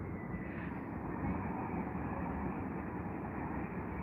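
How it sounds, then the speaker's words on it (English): A Virgin Atlantic Boeing 787 Dreamliner taxis at Heathrow Airport, giving off a steady, fairly distant low jet rumble and hum with no voices. "As we watch the Dreamliner from Virgin making their way to the runway."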